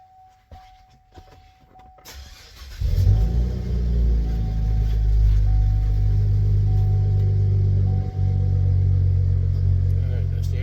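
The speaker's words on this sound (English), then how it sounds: "so I guess we'll crank it." A car engine cranks and catches at about three seconds, then settles into a steady, loud idle rumble that continues to the end, after a quiet cabin with a faint tone.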